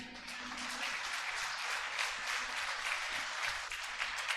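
Church congregation claps for Christ during a sermon, a steady, fairly quiet wash of dense applause heard in a reverberant hall.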